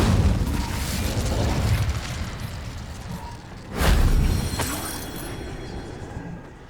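Incendio fire spell cast in Hogwarts Legacy: a sudden loud whooshing burst of flame midway through a rumbling, noisy game scene, followed by a crackling tail that fades out.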